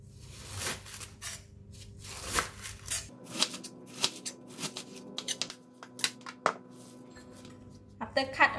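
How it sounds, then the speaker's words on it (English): A knife chopping cabbage into very small pieces on a cutting board, a series of close, irregular crisp cuts and taps, quieter at first and then more distinct, with no talking. "So I like to start off with cutting the cabbage."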